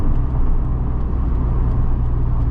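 A car with a manual transmission being driven, its engine hum and road noise steady and close throughout, with no talking.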